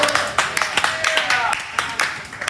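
Scattered audience clapping at a stand-up comedy show in a pub, a handful of sharp claps spread unevenly over a couple of seconds, fairly close and moderately loud with room murmur behind.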